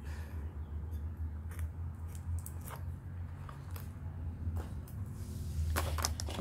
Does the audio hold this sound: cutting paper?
yes